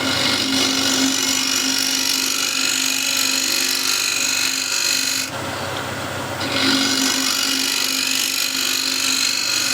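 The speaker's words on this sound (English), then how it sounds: "So this one still scrapes quite nicely." A standard woodturning scraper, edge freshly burred from the grinder, cuts spinning wood on a lathe with a steady near rasping scrape, dipping briefly midway before the cut resumes at full strength.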